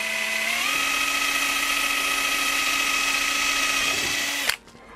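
A power drill with a bit bores into a motorcycle seat, a steady high whine that steps up in pitch early on, holds, then stops abruptly with a brief clack, leaving quiet.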